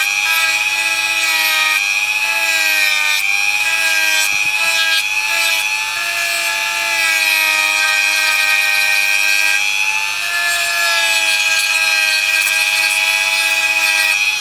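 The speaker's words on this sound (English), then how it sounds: "this can just so quickly and easily sand it all down" Abrasive sanding on a plastic part of a 1/48 scale model of a Phantom FGR.2 jet makes a loud, close, continuous rubbing whir with a steady tonal whine, briefly easing midway.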